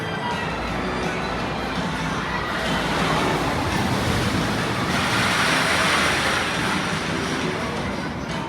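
A roller coaster train at SF Great America's Raging Bull runs along its track, giving a loud, sustained rushing roar that swells and surges as it passes, with no clear voices.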